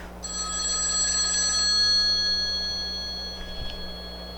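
A telephone rings with a sustained trilling bell tone that carries for several seconds before fading out, heard alone without talking over it.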